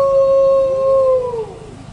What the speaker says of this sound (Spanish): y aúlla el lobo